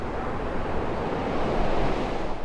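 Ocean surf washing in beside sand dunes at Walvis Bay, Namibia: a steady, dense roar of breaking waves with wind buffeting the microphone, continuous and fairly loud throughout with no talk.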